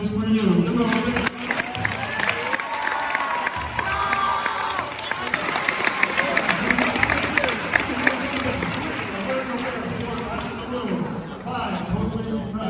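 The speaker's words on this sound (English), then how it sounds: "all this applause is for you" Students in a school hypnotist assembly burst into applause and cheering, a loud, sustained wash of clapping with shouts and children's voices mixed in, while someone talks over the crowd throughout.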